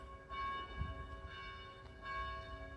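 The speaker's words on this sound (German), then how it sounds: "hören wir die Glocke herüberläuten vom Karmelkloster, dort wo jetzt gleich das Mittagsgebet beginnt" A church bell rings from a Carmelite convent ahead of midday prayer, three slow, evenly spaced strokes with long humming overtones, distant and soft.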